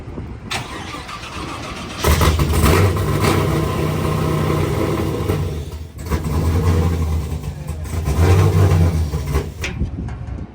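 An LS V8-swapped Nissan 350Z engine runs loud and close, revving in surges with a rough idle between throttle blips.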